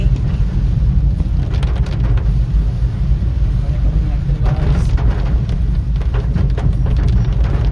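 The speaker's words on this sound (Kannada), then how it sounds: "ಮಳೆ ಕಡಿಮೆ ಆಗ್ತಾ ಇದೆ." Steady monsoon rain hissing on a moving car with a heavy low rumble throughout, fairly loud, with a faint voice murmuring under it.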